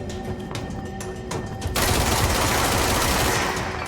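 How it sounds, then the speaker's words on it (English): Sniper gunfire in the video game Control, first as a few sharp isolated cracks, then a dense, loud sustained burst of rapid shots and noisy blasts filling the rest of the moment. "Those are snipers, I think."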